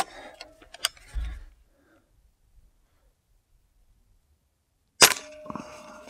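Sharp snapping shots from an air rifle, either an Umarex Octane Elite or a Gamo Swarm Magnum, crack out several seconds apart, with faint clicks and handling noise in between and near silence during the long gap.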